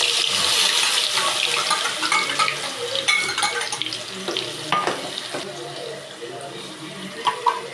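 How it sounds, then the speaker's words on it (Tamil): Onion paste dropped into hot oil for chana masala, a bright watery hiss and spatter that gradually settles, with stirring noises close by. "எண்ணெய் காய வச்சுருக்கேன். முதல்ல வெங்காய பேஸ்ட்டு போடலாம்."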